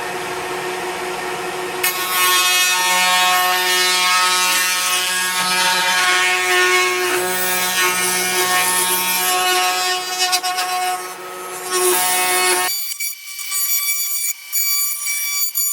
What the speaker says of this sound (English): what I want to do is run the edges all along here, 1/4 inch bit, to just round over the edges